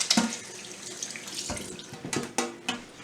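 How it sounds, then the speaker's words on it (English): Hands rinsed quickly under a running kitchen tap while cooking, a close, steady splash of water lasting about three seconds with a few louder knocks near the end. "let me just rinse my hands really quick"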